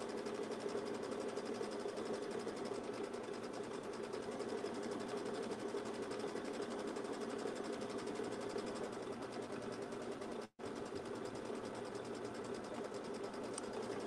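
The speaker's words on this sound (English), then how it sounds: "This is one of the things I find most relaxing about machine embroidery is creating something and then getting to watch it stitch" Baby Lock Solaris embroidery machine stitching a design, a fast steady mechanical whirr and rapid needle clatter, continuous and even with one brief pause near the end, no talk.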